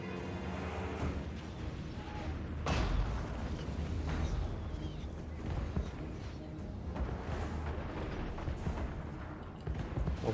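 Artillery in a Total War: Warhammer battle fires a few distant booms, with a sharper blast standing out among the rumbling battle noise of the game, fairly faint and steady throughout.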